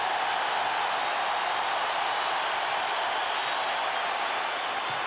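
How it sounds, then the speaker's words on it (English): Basketball crowd at an NBA Finals game between the Chicago Bulls and Los Angeles Lakers, applauding in a dense, steady roar of clapping and cheering that stays loud and even throughout. "Crowd applauding the efforts by Pippen"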